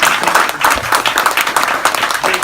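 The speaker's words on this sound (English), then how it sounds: "Bo and Linda Jimenez deserve a round of applause for hosting this" Audience at a district residents' meeting applauds hosts Bo and Linda Jimenez: a steady, dense patter of many hands clapping at close range, with a faint voice mixed in.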